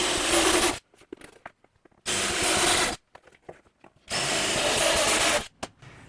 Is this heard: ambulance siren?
no